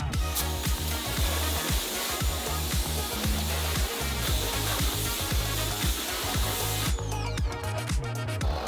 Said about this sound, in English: everything is going to get sprayed down with a degreaser